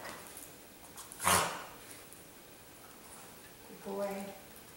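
A dog barks once sharply during a training session with target and sit cues, then gives a shorter, softer bark or whine a few seconds later, both under steady background noise.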